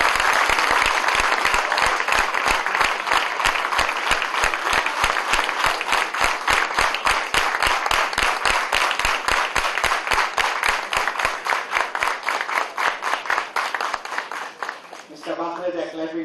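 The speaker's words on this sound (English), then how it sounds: "Mr. Bhakare, they're clapping more for you than for me." Lecture hall audience claps for a professor at a keynote event, a loud, rhythmic run of synchronized clapping with sharp regular beats that thins toward the end as a voice starts speaking.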